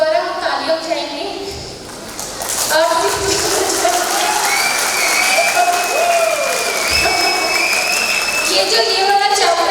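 Audience applause at a women's empowerment team session, a dense sustained wash of clapping from a crowd that continues steadily throughout, with voices and cheering mixed in above it.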